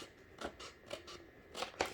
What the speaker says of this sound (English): And what I'm doing is I'm cutting it off of the paper